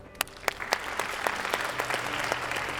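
Clapping at a telecom industry panel starts with a few sharp, separate claps, then swells into a steady ripple of audience applause at moderate level.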